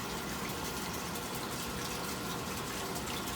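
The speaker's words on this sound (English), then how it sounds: "usually we will put 4 liters of the THF into the tank" Tetrahydrofuran solvent pouring into the reservoir tank of a laboratory solvent purification system, a steady broadband liquid rush that stays even and close throughout.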